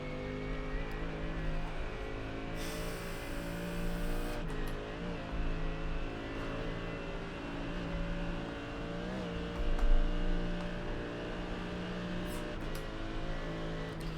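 GT3 race car engines drone steadily in iRacing at the Nordschleife, a harmonic engine note with shifting pitch as the car accelerates and lifts, a brief hiss early on and a louder swell around the middle.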